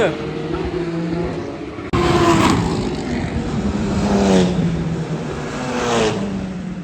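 GT3 race car entering the pits at Spa-Francorchamps during the 12 Hours of Spa, its engine note rising and dropping through several gear changes, loud and nearby against a busy trackside background.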